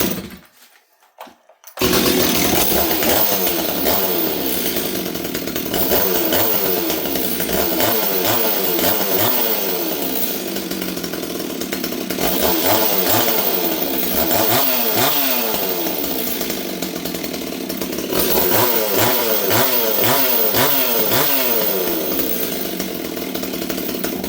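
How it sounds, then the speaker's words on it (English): A Stihl 026 chainsaw with starting issues roars loud and close after a brief quiet start, holding a steady buzzing run with repeated swells and dips of revving and settling toward idle. "Just keep the saw running, okay?"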